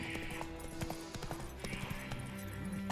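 Roach, a horse in The Witcher 3: Wild Hunt, trots with steady clip-clop hoofbeats in a quick rhythm over game ambience and a faint musical drone, close and moderately loud.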